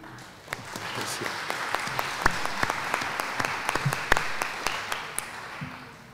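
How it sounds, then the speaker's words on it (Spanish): An audience gives a welcoming round of applause at a book presentation, sharp scattered claps rising into a steady patter at moderate volume and then thinning out. "Le damos un aplauso de bienvenida."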